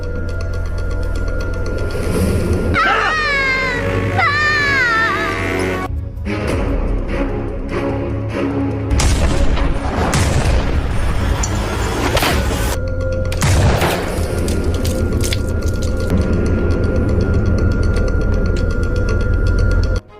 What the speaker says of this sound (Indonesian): mereka melepaskan tembakan terakhir sama seperti di awal film ini.